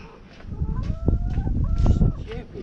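Chickens cluck in a farmyard in a run of short, close, uneven calls over steady outdoor background noise.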